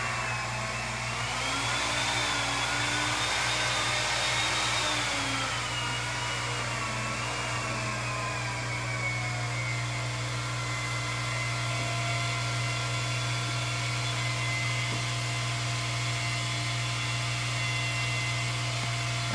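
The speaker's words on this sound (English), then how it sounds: "the suction is started" A suction pump hums steadily and loudly throughout an aquarium water change on a discus fry tank, a constant motorized drone with a faint wavering whine on top and no talk.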